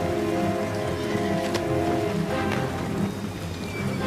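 Steady rain sound effect pouring under a narrated account of Romans fighting barbarians in a forest, a dense continuous hiss with a few sharper splashes, while a narrator speaks over it.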